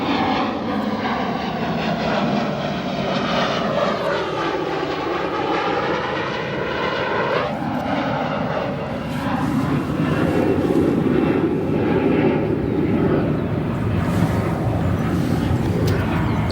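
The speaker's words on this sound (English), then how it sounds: "We're going to do our best to try and catch this Airbus A321neo operated by United. That'll be departing." United Airbus A321neo jet airliner departing O'Hare Airport, a loud sustained engine roar with shifting whining tones that swells and broadens as the aircraft passes, with no talk.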